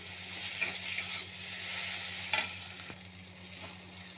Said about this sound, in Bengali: মশলা দিয়ে ভালো করে ভেজে নিয়েছি